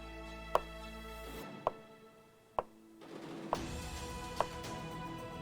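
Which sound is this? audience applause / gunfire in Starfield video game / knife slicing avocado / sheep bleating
knife slicing avocado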